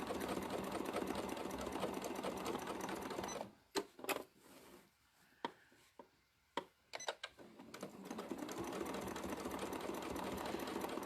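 Sewing machine doing free-motion quilting, steady fast mechanical stitching that stops for a few seconds of scattered clicks and taps, then resumes running evenly, faint and close.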